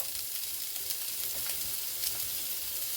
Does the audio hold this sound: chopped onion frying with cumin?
yes